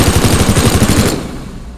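A minigun fires in the video game Teardown, a loud, rapid continuous burst of shots lasting about a second before cutting off into a fading tail.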